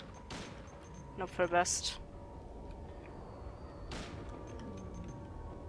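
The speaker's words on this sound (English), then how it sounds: "Let's just shoot them." Gunfire in the Silent Hill 2 video game, a few sharp shots clustered near the middle and another burst later, set against a low droning game ambience with a voice speaking briefly.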